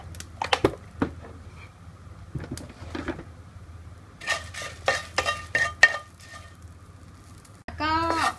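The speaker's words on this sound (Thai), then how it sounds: "แล้วก็คั่วนะคะแล้วก็ใส่ เกลือป่นเหมือนเดิมนะคะ" Herbs and dried chilies dry-roasted with salt in a pan, heard as scattered scraping and rattling strokes of a spatula, some in quick clusters, fairly faint against a quiet room, with a voice coming in at the end.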